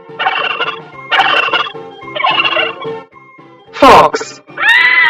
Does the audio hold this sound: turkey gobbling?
yes